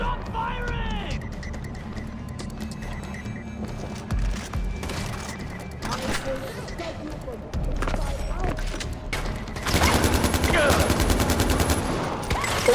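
Rapid gunfire and bursts of shooting in the open-world shooter game Far Cry 4, loud and dense throughout, growing heavier near the end, with someone talking over the action.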